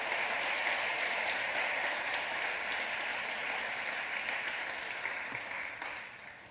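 A church congregation applauds during a praise and worship service, a sustained wash of many hands clapping that stays even, then thins and fades slightly toward the end.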